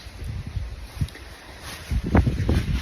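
Gusty wind buffets the microphone in low rumbling bursts, growing stronger and rougher toward the end.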